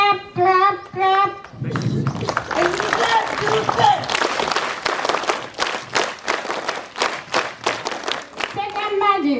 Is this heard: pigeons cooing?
no